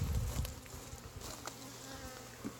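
Honey bees buzzing around a hive during an inspection, a steady, faint insect drone with individual bees passing close now and then.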